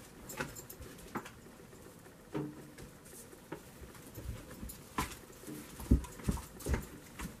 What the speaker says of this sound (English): I hear my dog is trying to get to me.